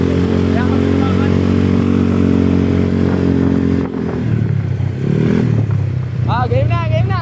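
A Mio Sporty and a Honda Click motorcycle rev hard in a drag race, their engines loud and close with a droning pitch that shifts midway, then a voice speaks briefly near the end.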